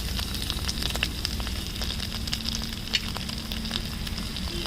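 A Bengali curry of hilsa fish head with taro greens sizzles loudly and steadily in a pan while green chilli paste and spices are sautéed. The crackle and hiss continue evenly, with scattered sharper pops and no talk.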